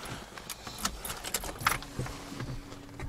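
An ignition key slides into the lock to the left of the steering column of a Lada Niva, giving a few quiet, close metallic clinks and jangles with small scrapes in a still cabin.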